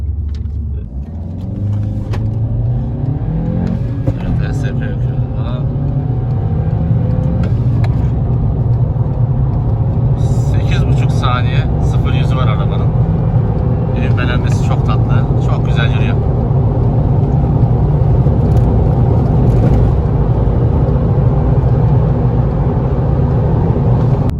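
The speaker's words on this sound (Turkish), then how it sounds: "Şimdi bir 0-100 yapacağım size." A Volkswagen Golf 5 (Mk5) 1.4 TSI Comfortline accelerates from 0 to 100 km/h in traffic, its engine rumble and road noise rising and holding loud and close from inside the cabin, with someone talking over it.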